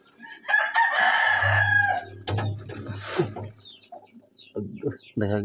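A native Visayan rooster crows loudly up close, then hens cluck briefly, with a steady low hum underneath.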